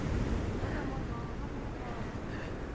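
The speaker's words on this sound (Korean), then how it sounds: "이 파도 소리가 안 들릴 것 같은데 오늘 파도 진짜 억수로 세거든?" Strong ocean surf rolls in at Ilgwang Beach, a constant loud roar of waves mixed with wind buffeting the microphone.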